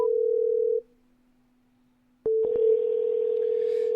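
A phone line gives a steady tone that cuts off into near silence, then a few clicks and a sustained ringback tone while a call is placed to a business support line.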